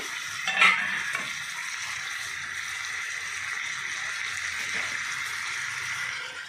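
Tomatoes hit a hot frying pan with a sharp crackle that settles into a steady, close sizzle, with light stirring and utensil clinks.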